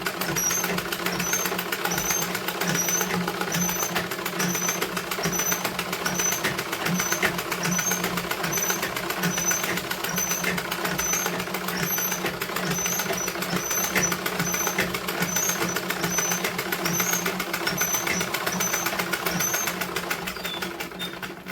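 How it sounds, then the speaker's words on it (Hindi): A sewing machine stitches blouse lining fabric in a steady, continuous mechanical whir with rapid, even needle ticking. It runs close and uninterrupted for about twenty seconds with no talk. "हम इस तरह से पलट के सिलाई लगा देते हैं"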